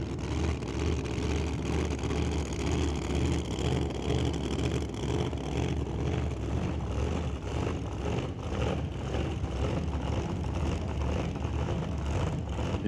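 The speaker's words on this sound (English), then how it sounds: "Sporting just 393 cubic inches of small block Chevrolet. Couple of turbos for motivation." A twin-turbocharged 393 cubic inch small block Chevrolet drag car engine at a Doorwarz qualifying event, a loud continuous roar sustained throughout with steady broadband rumble, no clear breaks or launches.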